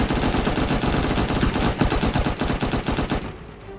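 Sustained rapid-fire shooting at enemies in the survival game Unturned, a loud, steady rattle of shots that cuts off near the end, with no voices.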